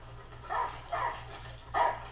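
A dog in a movie barks three times at a moderate distance, evenly spaced and mid-loud over a low background hum.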